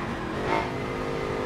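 V8 engine of a family car in a racing video game, a brief steady engine drone at moderate level with a slight swell mid-way, no talk.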